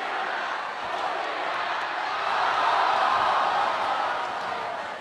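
An audience cheers at an idol sports festival, a steady far-off crowd roar that swells in the middle and fades slightly at the end.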